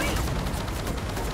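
A heavy mulcher gun fires in the video game Gears of War 4, a dense, loud burst of rapid rattling shots filling the whole short moment.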